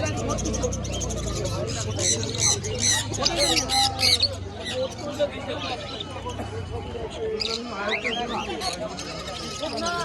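Finches chirp in cages at the busy Birnagar bird market, their quick high calls mixing with other cage birds and overlapping steady talk close by.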